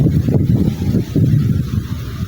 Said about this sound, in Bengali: অনেক বাতাস কি শান্তি লাগে এখানে